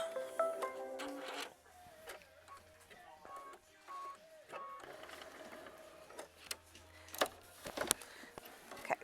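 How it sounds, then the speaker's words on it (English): An embroidery machine runs a tack-down stitch on a quilt block, giving a steady close mechanical whir with rapid needle clatter and scattered sharp clicks, briefly pausing and restarting partway through. "hit start, and that is going to tack it down with machine stitch step 18"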